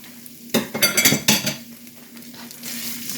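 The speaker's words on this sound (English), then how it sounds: "So we would just stir this around until it melts." Cream cheese being stirred into sausage in a pan, with a cluster of scraping, clinking utensil strokes against the pan over a soft sizzle, then quieter frying.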